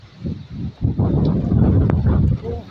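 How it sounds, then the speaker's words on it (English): Strong wind gusts buffet the microphone outdoors at a ruined building being reclaimed, a loud, low rumbling roar that builds after a brief lull and stays steady. "the wind is ripping"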